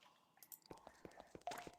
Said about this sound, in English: It is just us in the dripping caverns.